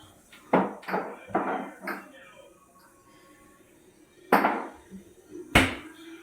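Kitchen pots and dishes are shifted aside in a series of sharp metallic clanks and knocks, several close bursts in the first two seconds, a pause, then two more loud clatters.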